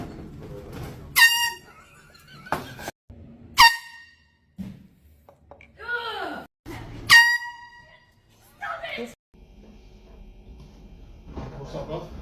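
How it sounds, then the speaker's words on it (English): Loud air horn blasts from pranks, several sharp honks in bursts with gaps between them, mixed with shouts, laughter and talking voices. "Let's start with one of the classics, the air horn pranks."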